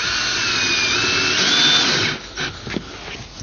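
A power screwdriver set to low torque drives screws into a pontoon boat furniture base with a steady close whir that stops partway through, followed by light clicks and handling knocks.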